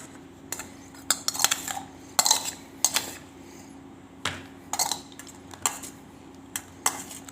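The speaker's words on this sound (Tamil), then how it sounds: "நல்லா கிளறி எடுத்துக்கோங்க. எடுத்துட்டு அப்புறம் நம்மளோட இந்த கப்பில் வந்து போட்டுடலாம்." A spoon stirring sweet corn and scooping it into a cup: sharp metallic clinks and scrapes come in irregular bursts against a quiet steady hum, close and fairly crisp.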